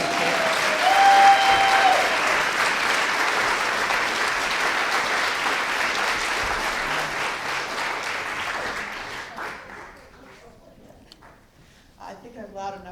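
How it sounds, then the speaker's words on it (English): An audience at a 2015 stage play gives a round of applause, loud and sustained for about ten seconds before fading, with a voice coming in at the end. "I think we have to give him another round of applause."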